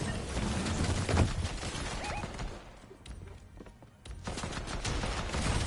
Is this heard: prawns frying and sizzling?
no